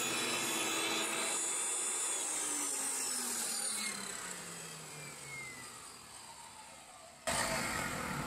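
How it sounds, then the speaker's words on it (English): A table saw roars through wooden beams with dense grinding noise, its motor pitch sagging as it slows, then a sudden louder burst at the end. "we're just running through this table saw here"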